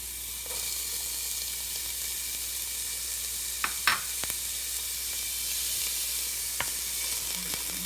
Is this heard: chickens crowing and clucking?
no